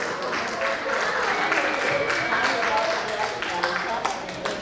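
Guests at a birthday party clap together, a steady patter of applause from a small crowd with a voice talking over it throughout.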